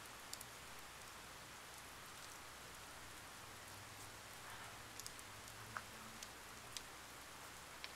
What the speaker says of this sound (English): The rain won't let up.